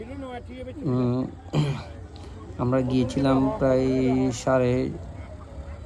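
Ducks honk and quack in loud, harsh bursts at a busy poultry market in Sarkar Hat, Banshkhali, several calls in quick succession close by, with a person speaking briefly among them.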